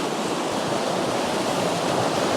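Fast-flowing, aerated stream water rushing in a steady, loud, broadband roar that stays close and unbroken throughout, with no voices.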